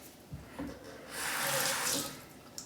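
Water runs from a tap into a sink in a steady gush of about a second, close by, framed by a few quiet knocks and handling sounds.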